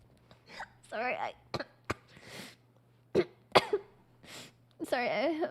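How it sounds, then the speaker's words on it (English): A person coughing several times in short, sharp bursts during a group discussion, with speech mixed in between the coughs and a steady low hum underneath. "No, I was just coughing."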